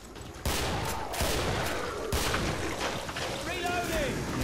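Continuous heavy gunfire in the co-op shooter Killing Floor, dense overlapping shots forming a loud sustained barrage, with players talking over it.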